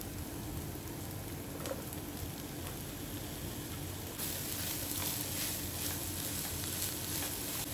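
Capsicum and chicken breast sizzling in a hot pan for chicken pasta, a steady dense frying hiss that grows slightly brighter and louder halfway through, with faint stirring clicks and no voices.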